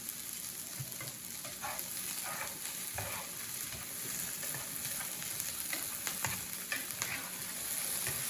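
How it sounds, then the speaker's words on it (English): Steady sizzling and crackling of food frying in a pan, close and continuous, with occasional sharper pops and no voices. "You can hear it sizzling."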